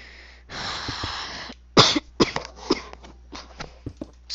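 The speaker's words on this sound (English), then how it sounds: "My smoker's cough." A smoker's cough: one long raspy hack, then a run of sharp, wet coughs and throat clearing close to the mic, with brief gaps between bursts.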